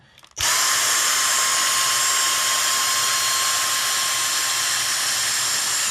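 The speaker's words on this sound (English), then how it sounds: "I'm going to turn the hoover back onto normal mode" A Dyson DC59 cordless handheld vacuum cleaner with its crevice tool fitted starts abruptly after a brief quiet moment, then runs at a loud, steady, high-pitched whine with a constant airy rush and no talking.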